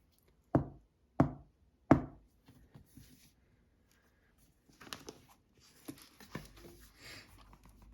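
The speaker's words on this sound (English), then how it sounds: "I'm going to knock on the book" Three sharp, evenly spaced knocks on a book ring out close and clear, followed by soft rustling and handling noises.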